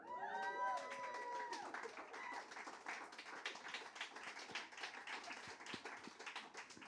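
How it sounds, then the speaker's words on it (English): Applause from an audience at an award ceremony fills the whole stretch, a dense wash of clapping with some cheering and bright tones ringing out near the start. "Please give a round of applause."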